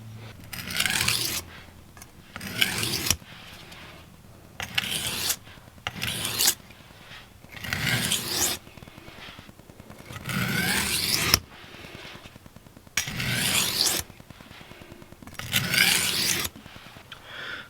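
A kitchen knife is drawn across a sharpening stone in repeated rasping strokes, about a dozen close scrapes in an uneven rhythm with short pauses between them.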